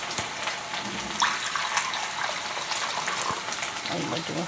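Water poured into a hot pan of frying fish, a steady hissing sizzle with faint crackles and a few sharp pops, moderately quiet and continuous throughout.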